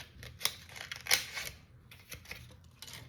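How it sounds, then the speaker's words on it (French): Scissors snipping through a small piece of plastic bottle, a few crisp, close cuts with sharp clicks spaced irregularly over a quiet background. "j'ai pris ce petit bout de plastique, je vais le découper"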